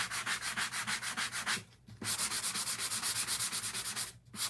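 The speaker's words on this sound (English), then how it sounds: "I'm just going to sand it a little bit on the edges" Wooden wreath edges are sanded by hand in fast, even back-and-forth strokes, close and steady, with two brief pauses.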